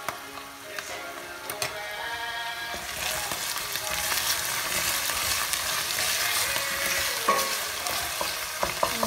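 Garlic and tomato sauce frying in a pan while being stirred, a steady close sizzle rising as the sauce goes in, with scraping and light clinks of the utensil.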